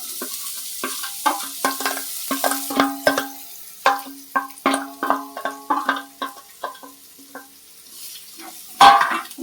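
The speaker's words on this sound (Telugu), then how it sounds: "ఆనియన్స్ కట్ చేసేసుకునేసి నూనెలో వేసేసుకుందాం." Chopped onions in hot oil give a series of sharp, close stirring and sizzling bursts in an irregular rhythm, with short pauses between spatula strokes.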